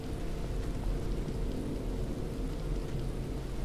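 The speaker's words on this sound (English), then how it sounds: "It was raining now." Steady rain in the video game Dead Island, a continuous wash of falling drops with low rumbling underneath, even and unbroken throughout with no voices.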